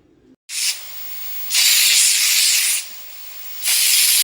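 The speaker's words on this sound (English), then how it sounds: "Just spray onto the pan for 1 to 2 seconds and you're good to cook." Cooking spray hisses from an aerosol can onto a pan in three separate bursts, each a loud, steady broadband hiss lasting about one second, with short quiet gaps between bursts.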